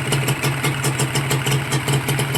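A Honda NSR150R motorcycle engine idles in neutral close by, a steady rapid two-stroke putter with an even pulsing rhythm that stays loud and constant throughout.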